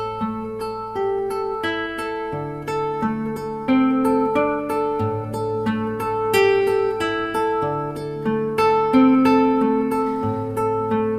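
A solo classical guitar fingerpicks a flowing Dorian scale etude, each note plucked evenly at a steady moderate pace and equal volume, close and clear.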